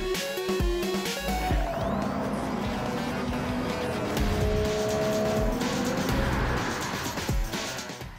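Racing car engines in the video game Gran Turismo 7, a continuous roar that rises and falls, with tire squeal and cars passing by, loud throughout.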